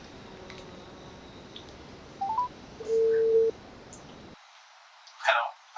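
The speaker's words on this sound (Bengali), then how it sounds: "একটা ফোন দিয়েই দেখি।" A mobile phone is dialed with a few short electronic key tones, followed by a longer steady tone. Quiet room noise sits underneath, and a brief burst of sound follows near the end.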